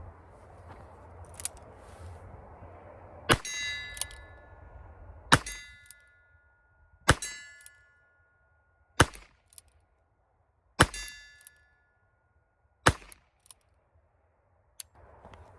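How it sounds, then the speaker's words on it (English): A Ruger handgun fires downrange outdoors: about seven sharp, loud reports at irregular intervals, several with a bright metallic ring trailing off, separated by near silence and no talking. "let's dump a few rounds downrange with it"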